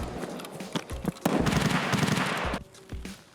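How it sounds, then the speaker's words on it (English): A gunfight in Escape From Tarkov, heard as a burst of rapid automatic gunfire with sharp single shots around it, loud and close, no speech. "headed towards the gunfight I could hear"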